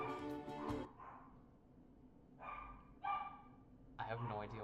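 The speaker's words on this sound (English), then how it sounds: "I have no idea why my dogs are barking." Several dogs bark in short bursts somewhere off in the distance, three or four clusters of yaps spread across the moment, while someone talks nearby over them.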